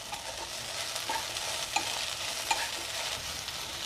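Okra with crushed peanuts and salt is stirred in a hot pan: a constant close sizzle under scraping stirs, with a couple of brief utensil clinks against the pan and no talking.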